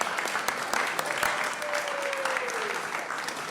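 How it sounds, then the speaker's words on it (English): Brief applause at a city council meeting for a group of youngsters who just led the pledge, a crowd clapping steadily at moderate level with a few sharper individual claps. "Let's give these youngsters a round of applause."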